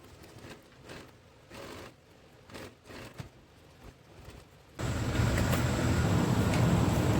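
Sewing machine stitching a princess-cut blouse runs steadily and fairly loud after a quieter stretch of handling noises, with no speech.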